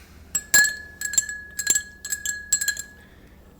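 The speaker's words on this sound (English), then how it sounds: "Let's stir that up." A spoon stirring a substance inside a glass, with bright clinks against the sides in irregular bursts and a sustained ringing tone, close and alone.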